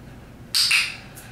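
A trained show parrot lets out a single sharp, loud squawk up close, a harsh shrill cry that trails off, with a brief faint chirp after it and quiet room noise around.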